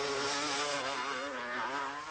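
A stunt motorcycle engine roars loudly and steadily throughout at close range, with a buzzing, revving tone and no talk over it.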